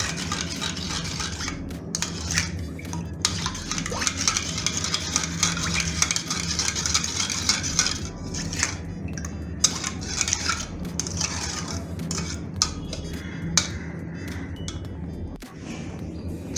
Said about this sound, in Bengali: ভালো করে গুলে নেবেন মিক্সচারটা